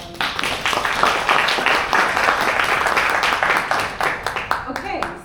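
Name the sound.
audience applause for panelists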